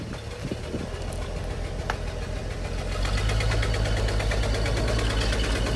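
A muscle car with a new exhaust idles with a rough, lumpy burble, then the engine note rises and deepens into a louder, steady drone as the car pulls away.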